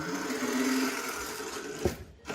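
Brushed electric motor of an RC lowrider car coasting off throttle, a steady close whirring drone with a faint tonal whine, dipping at the very end.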